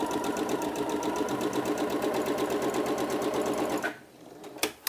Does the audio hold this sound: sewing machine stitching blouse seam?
yes